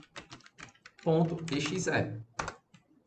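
Quick keystrokes on a computer keyboard type a short terminal command in a few light clicking bursts, while someone speaks over the middle of it.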